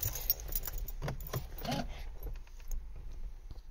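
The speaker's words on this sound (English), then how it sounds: "So what we'll do is we'll insert the key." A car key for a 2013 Mercedes C220 jangles on its ring and slides into the ignition. Quiet, close metallic clinks and rattles come in short bursts.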